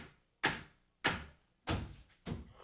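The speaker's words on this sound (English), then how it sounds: "And I think someone's knocking at the door." Four loud, sharp knocks on a door, played as a stage sound effect during a live comedy performance, each hit a separate thud with a short decay, spaced about half a second apart.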